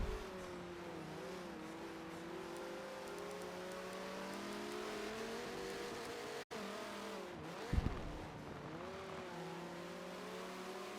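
GT race cars on the Catalunya circuit in a racing video game roar continuously, engines droning and shifting pitch, with a brief dropout and a short tire squeal burst near the end.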